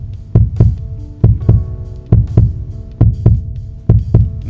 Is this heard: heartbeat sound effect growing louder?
yes